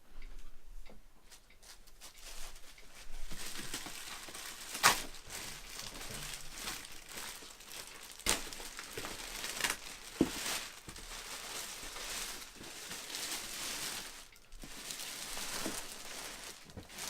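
A large Chucky doll is pulled out of a plastic bag, with crinkling and rustling plastic and scattered ticks and taps, fairly quiet and close, running throughout.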